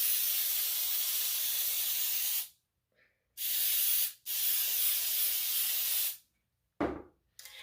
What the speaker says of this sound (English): I'm going to take a little Baker's Joy. It's flour and oil mixed in a can, makes it easier for you.